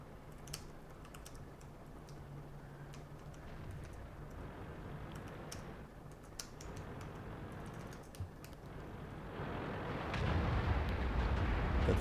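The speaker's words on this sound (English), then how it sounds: "I was busy typing." Quiet keyboard typing runs steadily under a low background rumble of World of Tanks gameplay, with scattered soft key clicks and occasional sharper taps, and the rumble swells louder toward the end.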